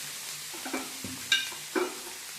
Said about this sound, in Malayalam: നന്നായി ഇളക്കുക. ഇത് നന്നായി ഫ്രൈ ആയി വരണം.